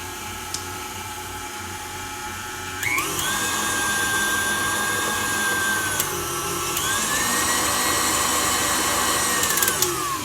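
Stand mixer whirring steadily while beating red velvet cake batter, a continuous motor drone with shifting whine as the speed changes, close by and without speech.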